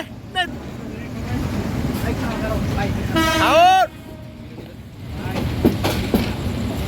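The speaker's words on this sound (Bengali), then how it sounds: "আমরা এই যে এখন ট্রেনে উঠতেছি ছেড়ে গেলাম জয়দেবপুর" A local train pulls out of Joydebpur, its steady rumble running under the whole stretch with a brief loud tonal whine or horn in the middle, while people talk in the background.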